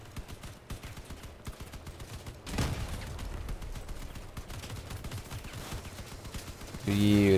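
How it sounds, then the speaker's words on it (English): Rapid bursts of turret gunfire from vehicle combat in Crossout crackle continuously, dense and mid-distance, intensifying partway through, with a louder tonal in-game sound at the end. "Just follow the sound of the turrets."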